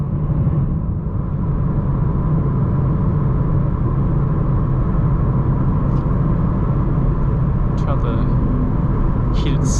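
A BMW M3 running an IRL midpipe and AA downpipes drones on continuously from inside the cabin, a heavy low exhaust rumble sustained for several seconds with a few faint clicks near the end.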